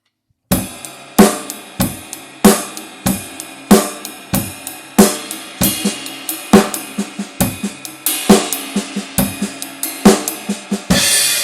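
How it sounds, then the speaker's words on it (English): Drum set playing a steady eighth-note pattern that moves into triplet paradiddles, with sharp, loud, regularly spaced hits and cymbal wash, close up and alone without talk. "Now I'm going to play an 8th note pattern with this triplet pattern after it."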